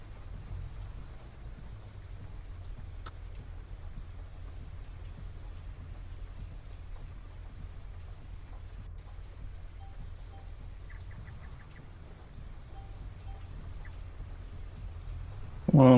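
Steady rain falling on a farm, a constant low wash with faint bird calls and brief distant sounds over it, ending in a sudden louder burst.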